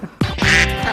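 A single loud, nasal duck quack, close and clear, lasting about a second.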